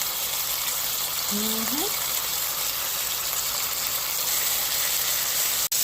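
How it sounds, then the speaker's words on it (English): Continuous hissing sizzle of chicken breast frying in a pan, steady throughout, with a short brief tone early on and a click at the end. "y'all hear that sizzle, I'm sure. That's what you want to hear."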